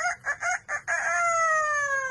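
A parrot imitates a rooster's crow: four short choppy bursts followed by a long drawn-out falling note, clear and close with no talking.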